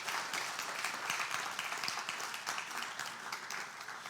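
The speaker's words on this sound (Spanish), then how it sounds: "Dele palmas al Señor." A church congregation claps together during a Spanish-language sermon, a steady wash of many hands sustained for several seconds at moderate distance.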